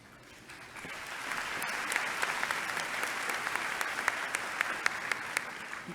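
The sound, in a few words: commencement audience applause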